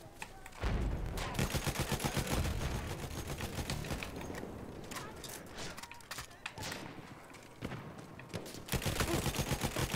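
Battlefield 1 team deathmatch on the Am Rand des Reichs map: bursts of rapid gunfire crack through a busy battle mix, loud at the start and end, with a lull of scattered shots in the middle.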